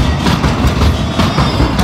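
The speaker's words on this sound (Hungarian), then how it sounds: "elment a villamos" A tram rolls past over street rail tracks, a loud, steady rumble with rhythmic wheel clatter running throughout, close by and with no voices.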